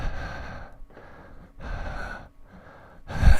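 A voice imitates low breathing heard over a Skype call, drawing slow, rhythmic, airy breaths in and out, three long cycles in a row, ending in a louder gasp.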